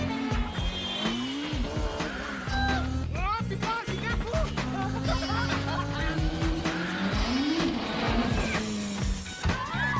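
Film car chase in which a courier's car is pursued by police, with engines revving and rising tire squeals and skids throughout, loud and continuous alongside a film soundtrack.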